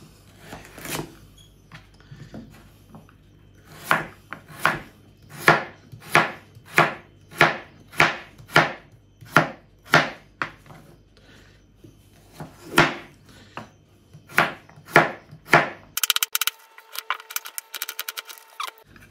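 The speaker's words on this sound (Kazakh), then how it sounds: "сәбізімізді де турап аламыз." Carrots chopped with a knife on a cutting board, a steady run of about twenty crisp, evenly spaced close knocks, with a short pause midway and a brief rustle at the end; no one speaks.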